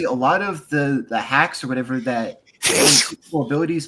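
A single sharp sneeze breaks into steady conversational speech, with talking resuming right after it.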